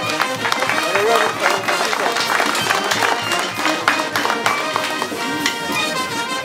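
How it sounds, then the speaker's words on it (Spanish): Applause from a gathered family at a community celebration, a dense, loud spatter of many clapping hands mixed with crowd noise and voices talking throughout. "Un aplauso para..."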